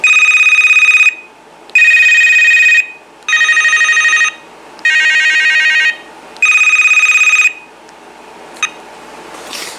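A Vtech VT9151 cordless phone cycles through its ringtones: five loud, bright electronic ringing bursts of about a second each, separated by short pauses, then a faint click.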